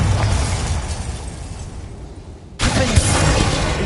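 A Bombarda spell explosion in Hogwarts Legacy: a sudden loud blast with a sharp burst and crackling debris, set against a rumbling battle background.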